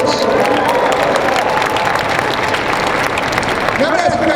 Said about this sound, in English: Let's give a big round of applause to our volunteers